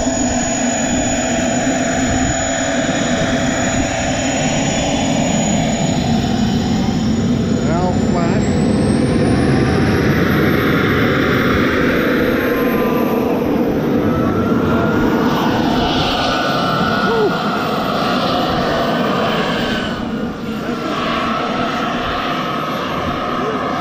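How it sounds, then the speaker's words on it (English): An F-18 jet aircraft roars loudly and continuously at close range with a rising and falling whine, while people talk over it. "Can't get enough of the F-18."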